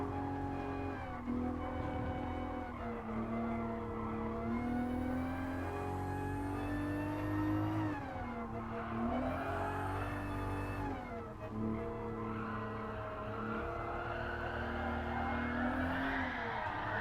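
Race car in Gran Turismo Sport driving the Supra on track, its engine droning and rising and falling in pitch through gear changes, with skidding tire squeal as the car slides, steady and loud throughout.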